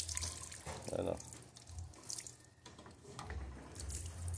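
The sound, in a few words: water flowing from a windmill-driven water pump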